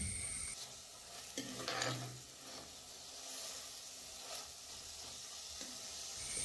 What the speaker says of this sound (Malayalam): ഇതെല്ലാം നന്നായിട്ട് വഴട്ടണമായിരിക്കും അല്ലേ?